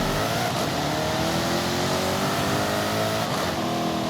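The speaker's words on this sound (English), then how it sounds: "Forza really failed to perfect the sound of the supercharged V8 Jaguar engine, but I think they've pretty much nailed it in Forza Horizon 5" Supercharged V8 Jaguar engine revving hard in Forza Horizon 5, a loud continuous mechanical roar with rising and falling pitch, alone without voices.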